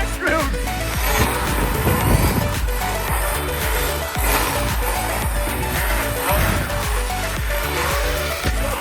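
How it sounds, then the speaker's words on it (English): An HPI WR8 Flux RC car on its first run on 2/3s, with a busy, loud whirring motor and bursts of tire squeal and scrabbling, close and continuous. "Yes, the tire squealed."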